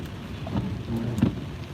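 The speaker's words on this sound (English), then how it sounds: "it's raining like I don't know what out here" Heavy rain falling outside, a dense continuous hiss with low rumbling underneath, steady and close throughout a short stretch.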